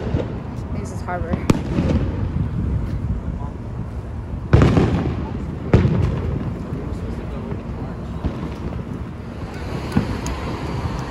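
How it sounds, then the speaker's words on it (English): Booming Fourth of July fireworks bursts at Disneyland, with two sharp loud blasts standing out, over steady wind rumble and a murmuring crowd outdoors. "so we can go watch the fireworks"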